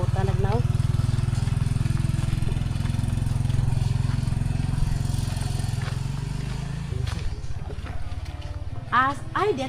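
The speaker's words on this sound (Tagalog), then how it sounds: "Purag tagiktik inyong motor ha." A motorcycle engine runs close and steady, a low throbbing drone, then it drops in pitch partway through. A few brief voices cut in over it near the end.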